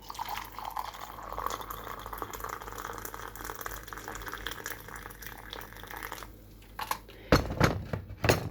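A steady, quiet stream of hot water pours into a cup for several seconds, followed by a few sharp clinks and knocks near the end.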